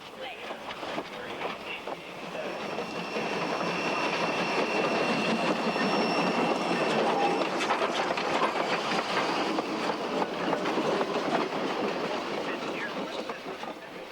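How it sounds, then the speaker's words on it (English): A steam train rolls steadily along, steel wheels clattering and hissing on steel rails, a continuous, fairly close rumble throughout. "The sounds of steam locomotion and of steel wheels on steel rails are unbroken"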